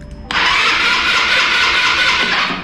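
Italika TRN-150 motorcycle engine cranking steadily without catching, a loud continuous starter whir that begins abruptly after a short quiet moment and runs on unbroken, with no voices.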